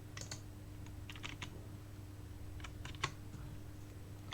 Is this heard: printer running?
no